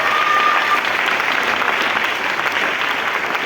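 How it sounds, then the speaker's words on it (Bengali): Audience applause at a recognition program in Kolkata, a dense, loud and sustained clapping from a large crowd that stays level without a break. "তো স্মার্ট ভ্যালুর জন্য আরেকবার হাততালি দেবো দিল থেকে"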